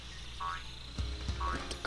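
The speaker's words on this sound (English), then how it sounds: "Hi there, you're a frog." Frog croaking in the video game Sonic Adventure: two short, bright croaks spaced about a second apart over a steady game background hum, with a couple of dull thumps in between.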